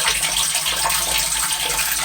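Rainwater runs and drips steadily from garage French drains, a continuous close, rushing trickle with no break.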